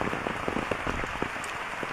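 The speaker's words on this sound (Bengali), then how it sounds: "গ্রামের মেঠোপথে বৃষ্টির সিনারি।" Rain falls on a village dirt path, a steady close hiss dotted with distinct drops pattering on the surface in a quick irregular rhythm, with no voices.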